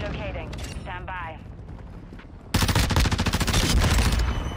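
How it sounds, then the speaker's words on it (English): Loud, rapid automatic gunfire from a Tempus Razorback rifle shooting through a wall in Call of Duty: Modern Warfare II, coming as a sustained rattling burst after a quieter stretch with voices. "Nice little wall bang."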